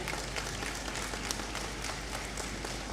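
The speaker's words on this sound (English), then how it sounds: "I think Mr. Akoto needs a clap." Continuous crowd applause in the Great Hall at a university matriculation ceremony, dense, even clapping from many hands at moderate distance lasting the full few seconds with no talk.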